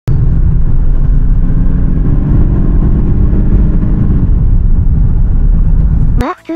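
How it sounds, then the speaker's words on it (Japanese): Inline-four engine of a Toyota Crown drones steadily from inside the cabin while driving on a narrow, winding road on Awaji Island, then cuts off abruptly near the end. "まあ普通の直四の音ですよ。"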